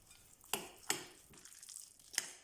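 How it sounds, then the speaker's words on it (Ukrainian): A spoon scrapes and clinks against a bowl a few times while soft, thick stirring sounds fill the gaps as a mayonnaise and dill filling is mixed smooth, quiet and close. "Перемішуємо до однорідності."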